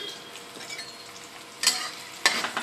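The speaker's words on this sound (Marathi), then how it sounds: "मस्त कांद्याला फ्राय करून घ्यायचं।" Onion frying in oil in a kadhai gives a soft continuous sizzle, with two sharp bursts of louder sizzling and stirring clatter near the end.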